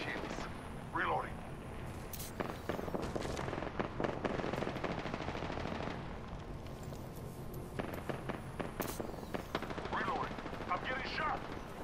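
Apex Legends firefight: rapid bursts of automatic gunfire and sharp shots crackle in dense volleys with brief lulls, loud and close, while voices talk over the shooting.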